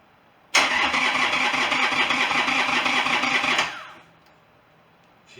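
A crashed Harley-Davidson motorcycle engine with a carburetor fires up abruptly and runs loud and close for about three seconds, then cuts off and fades to quiet.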